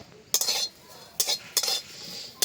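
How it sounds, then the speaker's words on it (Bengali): A metal utensil scrapes and clinks against a dry pan while ginger and green chilli are stirred, with several sharp bursts of scraping separated by short pauses, close and fairly loud. "শুকনো কলায় সব কিছু একটু নেড়ে নেব"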